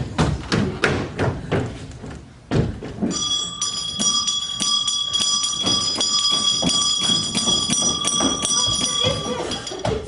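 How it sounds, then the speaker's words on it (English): A continuous electric alarm bell rings loudly and steadily during a stage performance of Macbeth, with shouting and thumping voices over it at the start. "Ring the alarm bell!"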